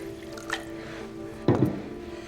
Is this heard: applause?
no